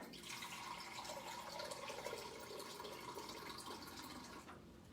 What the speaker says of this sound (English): So I've got 4 cups of water. I'm going to add 5.